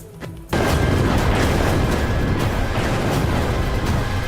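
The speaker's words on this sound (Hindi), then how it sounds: "ईरान पर मिसाइलें गिरी" Missile strike explosions in Iran hit with a sudden loud boom, followed by a sustained roaring rumble that stays heavy and dense for several seconds.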